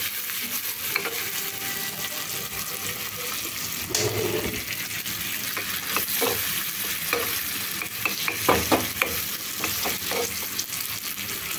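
Onions and tomatoes frying in a pan for Indian dal fry over a medium flame, a steady soft sizzle with occasional scraping stirs and clinks, no talking.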